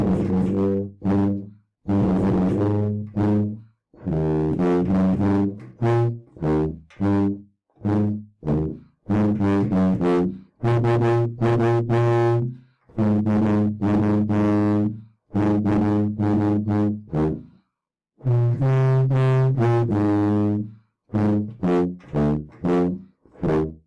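A solo tuba plays the Thomas the Tank Engine theme in short, bouncy phrases of separate notes with brief pauses between them, close and clear with no other sounds.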